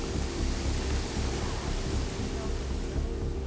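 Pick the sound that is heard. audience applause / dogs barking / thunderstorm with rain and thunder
thunderstorm with rain and thunder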